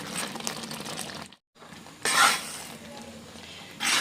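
Ada pasta being stirred and roasted in ghee in a pan for Ada Pradhaman payasam, with scraping stir strokes and a soft sizzle, briefly broken by a short silence and then louder spoon-on-pan scrapes.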